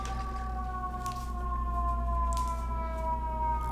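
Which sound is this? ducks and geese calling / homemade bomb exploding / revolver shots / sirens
sirens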